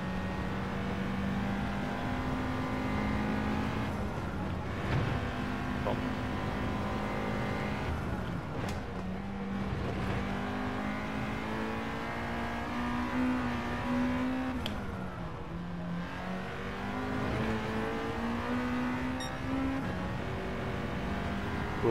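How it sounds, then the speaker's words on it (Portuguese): Honda Integra Type R DC2 four-cylinder engine in Gran Turismo 7 on the Nordschleife, a steady, loud droning drone with rising and falling pitch through gear shifts, continuous across the lap with no talk over it. "Só eu fiquei calado para vocês ouvirem um bocadinho o som do carro."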